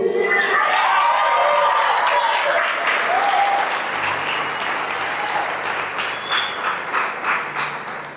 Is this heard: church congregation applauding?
yes